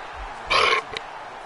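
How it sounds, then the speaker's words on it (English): A single short burp, close and fairly loud, lasting about a third of a second, over a quiet background. "Break that burp."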